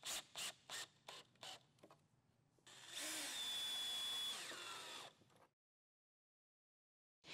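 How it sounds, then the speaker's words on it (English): A power drill drives #8 1¼-inch wood screws flush into a wooden Murphy bed frame and side rail: several short bursts of whirring, then one long, loud run that ends abruptly, followed by silence. "Drive the number 8 1¼-inch wood screws flush, snugging the inner wood bed frame to the side rail."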